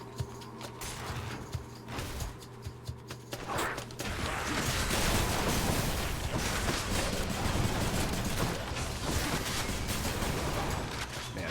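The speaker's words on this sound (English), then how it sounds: "Explosions are so good in these tiny rooms." Dense, continuous bursts of explosive gunfire-like blasts fill a tiny room in the video game Hades after a few seconds of sparse clicks and thuds, loud and close.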